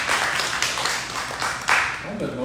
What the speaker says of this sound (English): what's that for applauding?